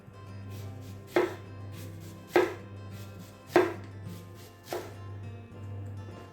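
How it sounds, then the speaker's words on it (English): A knife thinly slicing a red onion on a board, four crisp separate cuts spaced about a second apart over a steady low background hum, close and clear with no talking. "So I've got a red onion here, which I'm just going to thinly slice."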